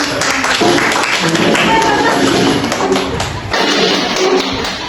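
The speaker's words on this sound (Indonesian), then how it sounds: "Tepuk tangan yang meriah." Classroom applause from students during a chemistry lesson, a dense burst of clapping that fills the room, with voices mixed in.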